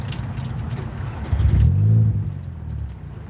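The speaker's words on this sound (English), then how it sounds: "car turned off." A turbocharged car's engine idles with a low rumble, swells briefly, then winds down and cuts off, leaving near quiet with faint jingling like keys close by.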